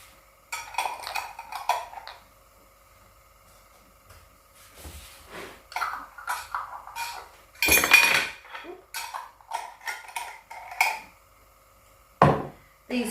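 Recycled glass jars and their metal lids are handled on a counter, giving scattered clinks, clacks and knocks in irregular bursts separated by quiet pauses, close by with no talk.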